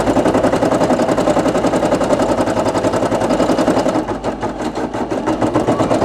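A Brother PE800 embroidery machine stitches a patch with a fast, steady mechanical chatter, loud and close, running continuously with a brief dip in intensity near the end.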